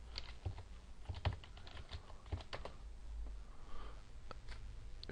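Someone types a password on a computer keyboard, a brief run of soft, irregular key clicks close by over a low background hum, with no talking.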